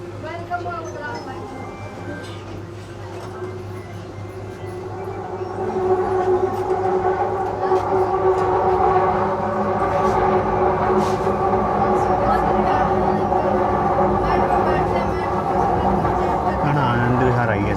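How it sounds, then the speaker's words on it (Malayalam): A Delhi Metro train pulls into a station, its steady low rumble and wheel drone swelling louder partway through as it nears, with tonal hums running throughout. "നമ്മൾ യാത്ര ചെയ്യുന്ന നമ്മുടെ ട്രെയിൻ ഇപ്പം എത്താറായി."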